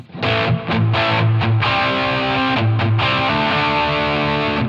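An electric guitar played through a Line 6 Helix with reverb set at 50%, distorted chords ringing out loud and sustained with a washy, lingering tail, alone without talk.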